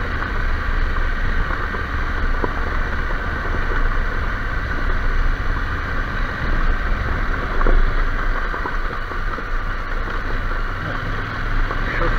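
Motorcycle riding up a valley road along the Rax near Payerbach and Reichenau in Austria, heard as a steady engine drone under constant rushing wind noise, with no speech.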